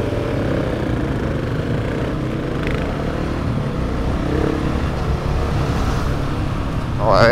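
A BMW F900R motorcycle accelerating, a steady loud engine drone with wind rush that builds toward the end, heard from the rider's position.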